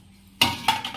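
Fried pointed gourd and potato pieces, salted and turmeric-coated, drop into a cooking pot with water, giving a sudden clattering splash followed by a second smaller clink and rattle.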